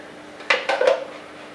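A spoon clinks three times against a pot holding watery mushroom duxelle for a beef Wellington, each close metallic tap followed by a short wet scrape and ring that fades to quiet.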